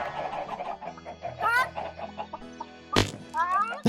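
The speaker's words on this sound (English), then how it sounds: "there's just so many chickens" Many chickens clucking on a farm in the HEY!!!Craft video game, a busy overlapping chatter of near and far clucks with a few sharper calls, under a person talking.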